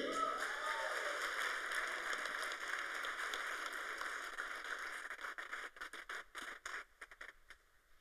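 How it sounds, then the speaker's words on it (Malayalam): Audience applause at a women's empowerment award ceremony: steady, fairly faint clapping from a crowd that thins into scattered claps near the end. "ഒരു അടിപൊളി കയ്യടി."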